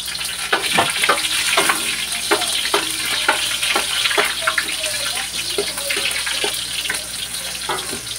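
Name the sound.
ginger frying in hot oil in a pan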